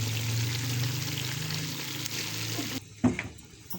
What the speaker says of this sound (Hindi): डाल दिया पानी।